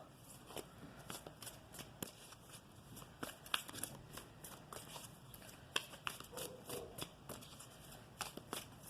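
Romance Angel Oracle cards being shuffled by hand, a steady run of soft riffling flicks and papery slaps with brief pauses between bursts, close and fairly quiet with no talking.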